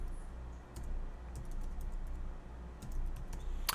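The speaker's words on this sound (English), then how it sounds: "I'm going to type in my York College email." Quiet keystrokes on a computer keyboard tap out an email address in quick irregular bursts over a low steady room hum, with no voices.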